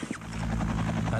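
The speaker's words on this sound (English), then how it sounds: "An Afghan Air Force Mi-8 attack helicopter arrives." An Afghan Air Force Mi-8 attack helicopter arrives with a deep, steady rotor thump and engine drone that builds quickly and stays loud for the brief moment.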